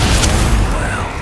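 Bombarda spell explosion in a Hogwarts video game, a loud booming burst with a rumbling, noisy tail over about a second.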